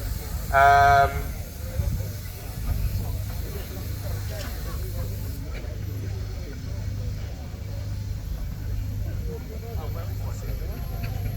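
A steam engine at a historic vehicle rally chugs with a steady low rhythmic beat and hiss, opening with a brief loud whistle-like blast, while a voice talks faintly.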